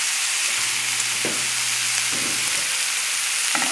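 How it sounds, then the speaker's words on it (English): Bacon frying on a moderate flame in a pan, a steady close sizzle with a few brief stirring clatters and tonal scrapes, no talking. "you just cook this until the bacon is cooked"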